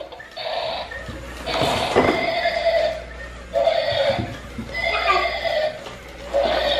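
A cart-pulling horse in a video game whinnies several times in loud, drawn-out neighs, separated by short pauses and backed by a low steady hum.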